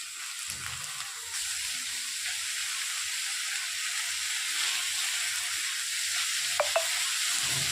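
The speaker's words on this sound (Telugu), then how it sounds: "జీలకర్ర ఉల్లిపాయలు ఎండుమిరపకాయలు ఎల్లుల్లిపాయలు వేసి ఫ్రై చేస్తున్నాను ఇప్పుడు కోసి కట్ చేసుకున్న బీరకాయలు వేస్తున్నాను" Sliced ridge gourd frying with cumin, onions, dried chillies and garlic in a pan makes a steady, close hiss and sizzle with faint stirring scrapes, and no voices.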